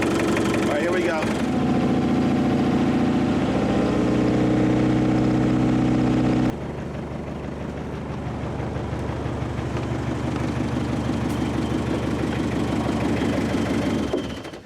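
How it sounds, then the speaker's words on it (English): A car engine running steadily then shifting to a busier, higher-revving drone as RPM climbs toward about 2,000, close and continuous, with voices talking over it. "I'm going to put start putting the RPMs up."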